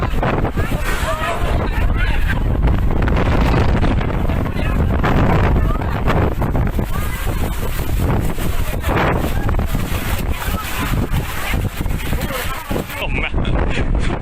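A strong storm wind blasts across the microphone at Pattaya beach, Thailand, with loud, continuous roaring buffeting that never lets up, while voices are faintly audible beneath it.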